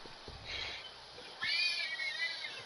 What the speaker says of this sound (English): The cat's awake again